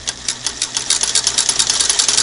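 A Singer Model 99K sewing machine runs at speed, close and loud, its needle and hook mechanism producing a fast, even mechanical chatter throughout.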